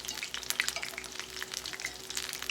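Okra and onion fritter batter fries in about a cup of oil in a cast iron skillet, the grease slightly cooled by the batter, giving a steady, close crackling sizzle with no voices.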